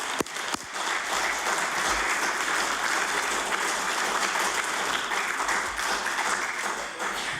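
Sustained applause fills a legislative chamber, the House of Assembly, a dense even clatter of many hands that starts abruptly after a couple of sharp claps and holds steady at full strength to the end.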